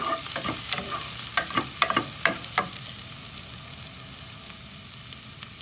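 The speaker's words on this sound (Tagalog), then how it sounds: "Ayan, yung bawang natin. Haluin lang yung siyang mabuti para hindi masunog." Chopped garlic stirred and fried in a pan for a Filipino sautéed shrimp paste dish, with a steady close sizzle and a run of sharp spatula scrapes and clicks over the first half that then fade into continuous frying.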